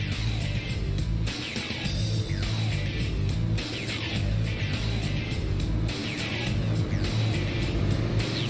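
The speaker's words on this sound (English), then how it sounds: "these drivers are starting to get lined up, get the tires warmed up, get ready to go here tonight" Stock cars in a Super Late Model series race at North Wilkesboro roll around warming their tires, a steady loud engine roar with cars repeatedly sweeping past close by, no talk over it.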